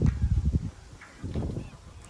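Several geese honk in two bursts of nasal, repeated calls, close by, with a short pause between them.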